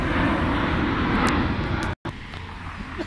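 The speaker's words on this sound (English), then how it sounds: "One more plane is going." An airplane passes overhead at Al Mutinah Park in Dubai, giving a loud, steady jet roar that fills most of the clip, then cuts off abruptly and leaves quieter outdoor ambience.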